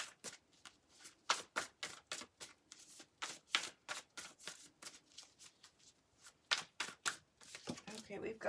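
Tarot cards being shuffled by hand, a quiet series of quick papery riffles and flutters repeating irregularly, close and soft, with faint background sounds between bursts.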